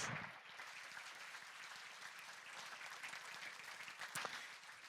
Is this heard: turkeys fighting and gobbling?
no